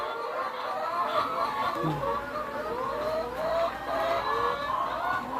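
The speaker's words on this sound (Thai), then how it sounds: "เสียงไก่แซวแซวอยู่เนาะ" Chickens cluck and chatter continuously nearby, a busy overlapping flock sound with faint background noise.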